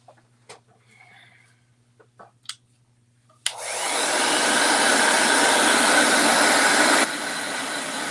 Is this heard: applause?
no